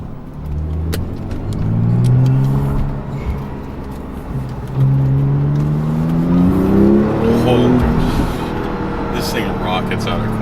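A Porsche 911 Turbo S engine rises in pitch again and again as the car accelerates hard out of corners, loud and close inside the cabin, with someone talking over it.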